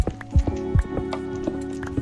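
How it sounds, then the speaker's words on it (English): Horse hooves clip-clop in a Minecraft world, several sharp knocking steps in an uneven trotting rhythm over a steady background drone, fairly close and clear. "Horses!"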